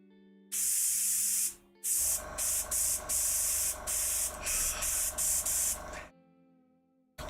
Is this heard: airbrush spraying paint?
yes